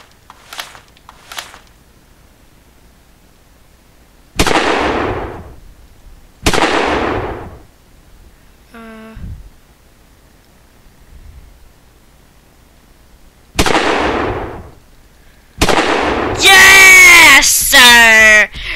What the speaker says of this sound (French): Le petit sniper qui va bien.